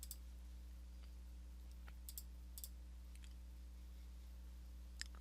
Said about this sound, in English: Left clicking to put down bounding boxes.